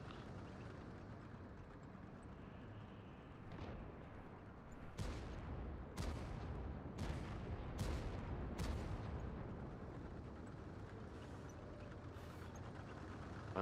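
Tank cannon fire in a World of Tanks battle, including an IS-7 heavy tank: a string of sharp, loud booms over a steady low rumble, about five shots spaced roughly a second apart.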